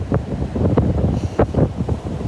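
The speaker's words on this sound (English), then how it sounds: "You can just meditate on the waves." Waves wash onto a Gulf beach on Bolivar Peninsula, a rough, continuous surf roar mixed with gusty wind buffeting the microphone, close and fairly loud with no talking.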